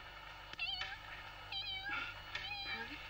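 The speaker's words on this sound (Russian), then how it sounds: "Кошка, точно." A cat meows three times, clear mewing calls spaced apart in a quiet indoor room, with people talking faintly around it.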